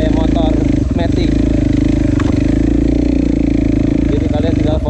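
Husqvarna enduro motorcycle engine drones loudly and steadily while riding, a continuous rumbling hum with a person talking over it.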